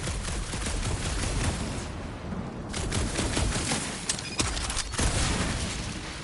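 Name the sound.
gunfire in the video game Guardians of the Galaxy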